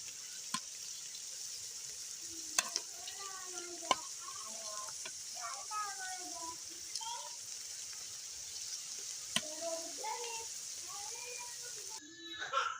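Rice being stir-fried with chopped capsicum in a pan for Chinese-style vegetable rice, with a steady sizzling hiss and scattered sharp scrapes and clicks of a spoon against the pan, while faint tonal sounds and speech-like murmurs play over it.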